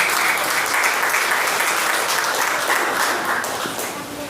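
A church congregation at an Assemblies of God evening service applauds, with dense, sustained clapping from many hands filling the hall, steady throughout and thinning slightly toward the end.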